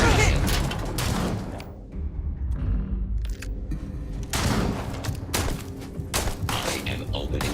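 Video game gunfire, dense bursts of rapid shots in two clusters with a quieter gap between them, loud and close.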